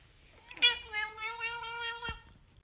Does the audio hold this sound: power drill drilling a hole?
no